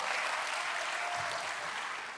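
Congregation applauding in a church service, a dense, even wash of clapping heard from a distance, steady for two seconds and fading slightly at the close.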